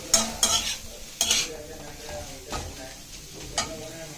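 Crumbled paneer is stirred in a hot pan, with a few sharp scraping strokes of a spoon against the metal over a quiet sizzle, the strokes spaced irregularly.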